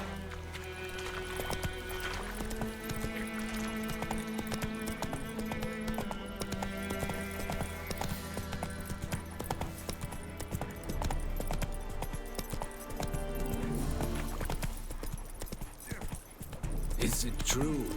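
In The Witcher 3 video game, a horse gallops with rapid, steady clip-clop hoofbeats over a music score, with a brief whinny and occasional spoken voices.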